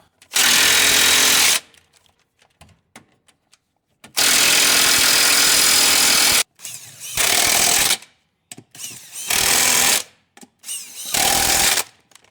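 Power tool driving the lug bolts tight while a wheel goes back onto a Dodge Power Wagon truck, in five loud bursts of roughly one to two seconds each, separated by short quiet gaps, with no talk.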